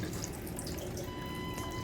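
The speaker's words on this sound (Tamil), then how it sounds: "இப்போ இந்த காய் முங்குற அளவுக்கு கொஞ்சம் தண்ணி" Water running steadily into a cooking pot of vegetables, a soft continuous splashing stream, close and fairly quiet.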